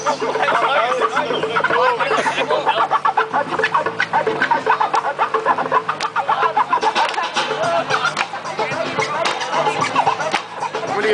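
Chickens clucking and squawking loudly and continuously, a dense close flock chatter with occasional sharp calls, while voices talk over them.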